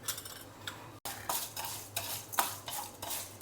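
Chana dal and urad dal are stirred in a tablespoon of hot oil in a pan, with repeated rhythmic spoon scrapes over a soft, steady sizzle, close by and without speech.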